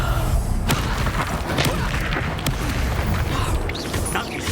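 Bombarda spell explosion in the video game Hogwarts Legacy, a heavy booming blast amid a dense roar of combat noise, with sharp crashing hits near the start and a continuous rumbling wash.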